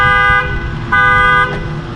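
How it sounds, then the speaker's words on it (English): Alarm on a 2022 Dodge Charger Scat Pack Widebody blaring in loud, sustained harmonic horn blasts, two long pulses broken by a brief dip, close by with no talk. "we're gonna see if it sets the alarm off from the back"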